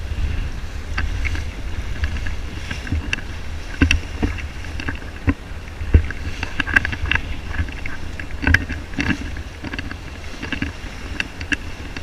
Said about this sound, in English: Nice trade wind sailing at the moment.